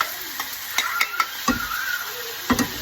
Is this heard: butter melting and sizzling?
yes